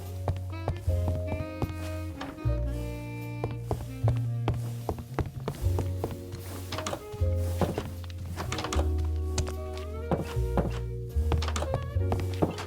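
Repeated blocky clicks and thunks of levers being flipped on cannons aboard a warship in Minecraft with Create mods, irregular sharp hits over low mechanical hum and steady game ambience.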